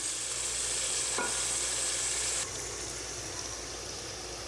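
Steady sizzling of onions frying in hot oil in a wok, a constant bright hiss with a faint stirring clatter, slightly quieter toward the end.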